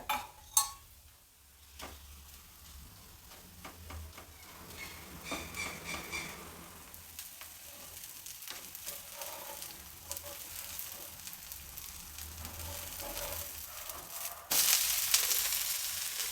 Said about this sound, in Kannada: ಈಗ ಹೈ ಫ್ಲೇಮಲ್ಲಿ ಬೇಯಿಸಬೇಕು